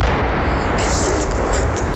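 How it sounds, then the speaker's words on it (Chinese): Artillery shelling in Ukraine produces a loud, continuous roaring rumble that fills the whole two seconds without pause, with no voices heard. "每隔十几秒就有炮击声"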